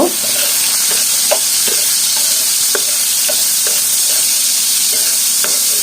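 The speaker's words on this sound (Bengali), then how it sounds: "এই যে লবণ হলুদ মাখানো অল্প পরিমাণে কিছু চিংড়ি মাছ দিয়ে দিলাম এটা হালকা ভেজে নেব" Salted, turmeric-coated shrimp frying in a little oil, a constant bright hiss of sizzling oil with light rhythmic spatula taps and stirs, loud and close.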